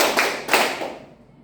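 A few sharp hand claps, about three, spaced unevenly in a classroom counting clap game, each crisp and close, fading into quiet.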